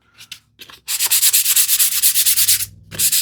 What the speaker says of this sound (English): Little bit of sanding on this one